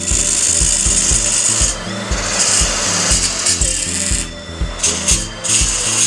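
An olive wood blank being roughed out on a woodturning lathe, with a steady, loud rasping scrape of the gouge and a repeating rhythmic thump from the spinning uneven wood, continuous throughout.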